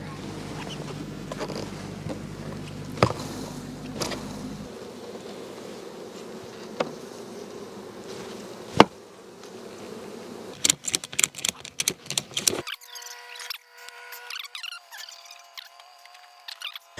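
A continuous buzzing swarm of honey bees, being installed from a nuc, drones throughout, mixed with scattered clicks and knocks, ending in sharp bursts of clatter and a higher steady tone.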